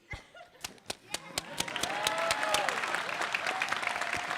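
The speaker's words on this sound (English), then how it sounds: "And a big round of applause for Elias." Audience applause at a food awards ceremony honoring a cheesemaker: scattered claps at first, building after about two seconds into steady, dense clapping from a sizable crowd, with faint voices mixed in.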